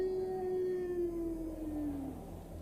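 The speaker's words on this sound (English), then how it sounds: "deeper howls." A single long wolf howl, loud and close, holding a steady pitch before sliding downward and fading out after about two seconds, over a low background hum with no talk.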